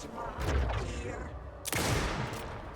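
Gunfire in the video game Alan Wake II, with two loud, sharp shots about two seconds apart, each trailing off against a steady background of game ambience.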